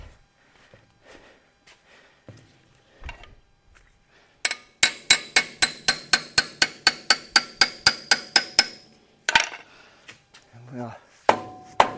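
Hammer blows driving a wedge during a car teardown: about fifteen sharp, evenly spaced metallic strikes in a quick run, loud and close, with scattered clanks and brief talk around them.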